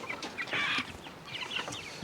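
Chickens cluck in a barn on a farm, a few short, close squawks and clucks in quick bursts standing out over a quiet background, with no voices.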